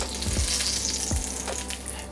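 Meat for ginger chicken sears in olive oil in a pan with a constant close hiss and sizzle, along with a few soft thuds as pieces are moved.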